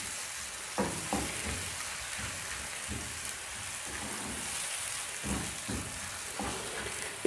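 Chopped onion fries and browns in butter in a pan for dal tadka, giving a soft continuous sizzle with occasional louder crackles and stirring scrapes, fairly quiet and without talk.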